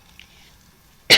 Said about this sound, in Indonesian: Maaf ya, Ibu agak batuk